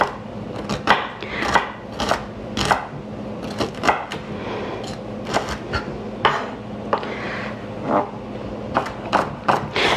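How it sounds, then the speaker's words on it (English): A knife chops broccoli on a cutting board with a run of sharp, uneven knocks, some quick and some spaced apart, heard close over a low steady background hum. "Chop it small enough that it's nice and tender after it's cooked"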